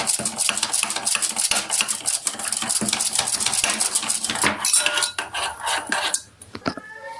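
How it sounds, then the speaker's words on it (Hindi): Powdered sugar beaten briskly in a cup for a tutti frutti fruit cake, a fast steady clinking and scraping of a utensil against the container, loud and close, slowing and stopping near the end. "मैंने जो है वो चीनी को अच्छी तरह से बीट कर लिया है"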